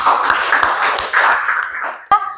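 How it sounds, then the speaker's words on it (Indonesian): Classroom applause for a student in an Indonesian teacher-training lesson on the spread of Islam, a short round of clapping under a voice that talks over it, ending with a sharp tap and a brief tonal sound. "Kasih tepuk tangan untuk Mbak Ismi"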